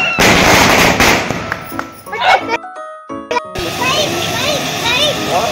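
Diwali firecrackers set off at home, with sharp bursts and crackling pops, a whistling rocket-like tone, then a stretch of near silence before crackling and sparkling resume, while children and adults talk and shout throughout.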